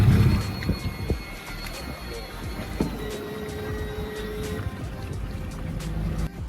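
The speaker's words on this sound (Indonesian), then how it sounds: "Karena mesin kapal ini 300 PK jadi melajunya kencang sekali." A 300 hp outboard engine drives a fishing boat fast across open sea, giving a steady, loud roar with rushing water and wind throughout.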